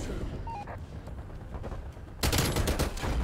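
Rapid automatic gunfire from a gun in Call of Duty Black Ops Cold War, a steady rattling burst that grows louder and denser toward the end, with no talking.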